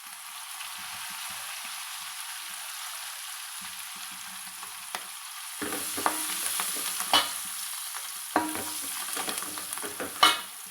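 Curry leaves hiss and crackle in hot oil in a pan for egg pulusu, with quiet frying at first and then louder stirring scrapes and sizzling bursts.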